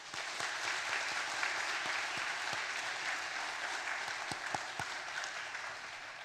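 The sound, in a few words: congregation applauding the pastor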